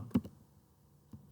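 A few sharp keyboard keystrokes while typing a search term into Google, a quick pair of clicks near the start and a single tap about a second later, close and fairly quiet with no talk.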